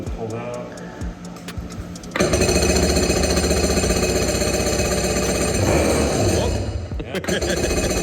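A drift car's big engine with a big exhaust pipe fires up and runs, a loud, steady, harsh rattling roar that starts abruptly after some talking and continues close by, with a voice still heard over it.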